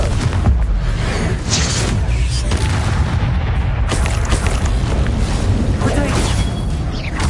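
Confringo blasting spells erupt during combat in Hogwarts Legacy, loud booming bursts repeated amid dense fight noise.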